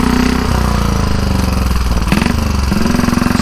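A Velocette KTT single-cylinder motorcycle engine, recently retimed at the ignition, thumps loudly and rapidly up close while riding ultra slow, a steady pulsing beat with brief shifts in pitch as the throttle changes.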